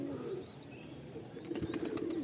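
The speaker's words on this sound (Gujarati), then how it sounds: "તમે ગણીને કહેજો કોમેન્ટમાં કેટલા કબૂતર થાય છે." Pigeons in a coop with nesting boxes, eggs and chicks, giving soft low cooing with a few faint higher chirps, fairly quiet and close.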